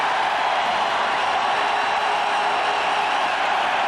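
A Commonwealth Stadium crowd of 26,000 roars steadily for the defense during a 1998 CFL West Semi-Final, BC Lions at Edmonton Eskimos, a dense, sustained wash of cheering with no breaks.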